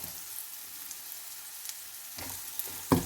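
Bottle mushrooms stir-fried with garlic in a pan give a low, steady sizzle with faint scraping, then a few louder stirring clatters and a bright sizzle burst near the end.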